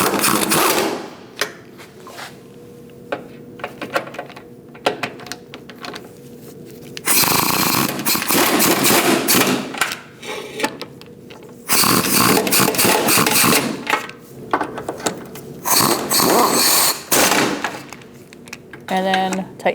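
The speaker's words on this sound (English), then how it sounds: "We're going to tighten down all our nuts." A power tool tightens nuts on a 2000-2006 Mini Cooper 1.6L L4 engine cooling fan assembly, with loud whirring bursts of several seconds between quieter pauses and a voice talking in the gaps.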